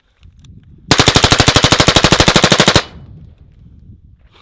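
A suppressed rifle fitted with a Surefire RC3 suppressor firing a rapid automatic burst of about two dozen shots in an even, fast rhythm, loud and close inside a van, then stopping abruptly into quiet.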